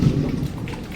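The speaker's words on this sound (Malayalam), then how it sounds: "ഇടിമിന്നലുണ്ട്." Thunder rolls during a rainstorm, a brief low rumble mixed with the patter of rain, fairly faint and with no voices.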